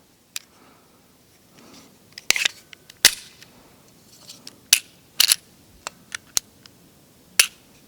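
Sharp, dry trigger clicks from a Smith & Wesson Performance Center Bodyguard 2.0 Carry Comp subcompact pistol, about a dozen separate snaps at irregular intervals, close and fairly loud, with no talking.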